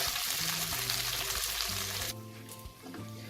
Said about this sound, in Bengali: এবার আদা রসুনের কাঁচা স্মেলটা যতক্ষণ না যাচ্ছে আমি এটাকে হালকা ভেজে নেব।